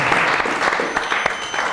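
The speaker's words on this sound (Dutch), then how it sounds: "maar toch applaus vind ik" Steady applause from a crowd fills the moment, dense clapping with a few sharper peaks, close and fairly loud with no talk over it.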